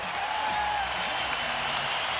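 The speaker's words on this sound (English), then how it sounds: "Skydome crowd on its feet." Crowd in Toronto's Skydome basketball arena at a 1996 Bulls–Raptors NBA game, cheering and applauding during a fourth-quarter timeout: a steady, loud roar of many voices with whistles and claps and no clear break.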